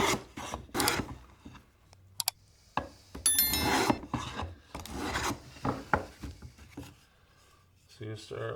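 A hand tool files and rasps a wooden block to round its edges, in repeated irregular scraping strokes, close and fairly loud.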